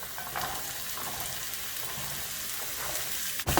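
Onion, carrot and beans sauté for rava upma with a soft, steady sizzle and faint scraping, ending in a sharp clatter.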